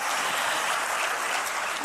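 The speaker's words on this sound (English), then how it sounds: "A big round of applause for Jean-Guy Africa" An audience applauds at the opening ceremony of the Africa CEO Forum annual summit, a brief, dense, steady patter of many hands clapping with no voices over it.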